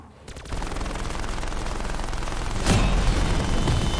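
Sustained rapid gunfire in the Ancient Evil video game while players shoot down Pegasus, dense and loud throughout, growing heavier near the end with a sharp burst.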